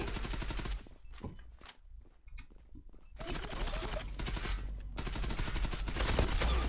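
Dense bursts of rapid automatic gunfire from the Zula online shooter game, loud and sustained, with brief lulls and scattered single shots between heavy volleys.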